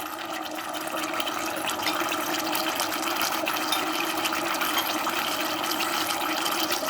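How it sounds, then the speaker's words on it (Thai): Thai chili paste (nam prik) bubbles steadily in a pan on the stove while a stir-fry of barking deer meat is being prepared, giving a continuous, close, fairly loud wash of bubbling with no talking. "อันนี้น้ำพริกเรากำลังเดือดครับ"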